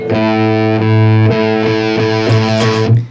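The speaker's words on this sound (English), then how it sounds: "The Logic Amp Sim is not great with" An electric guitar played through Logic Pro X Amp Designer distortion for a metal tone gives a thick, saturated, buzzing chord that rings and is re-struck several times before cutting off, with no talking.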